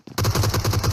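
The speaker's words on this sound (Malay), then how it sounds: "Kerana tembakan daripada Microzi itu memang sangat-sangat laju" A Micro UZI in the PUBG Mobile game fires a rapid, continuous burst of loud, evenly spaced shots after a brief quiet start, with no talking over it.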